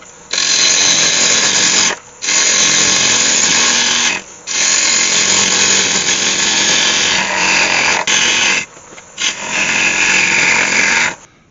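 A wood lathe whirs loudly as a chisel cuts a yew lidded box with an ash lid, steady close turning noise in long stretches broken by short pauses.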